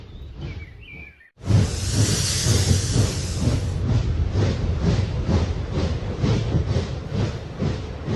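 After a brief quiet moment with a bird, a loud burst of steam hiss erupts, then settles into rhythmic chuffing hisses from a nearby train.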